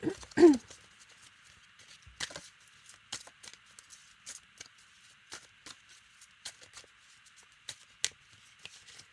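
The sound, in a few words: shuffling a deck of cards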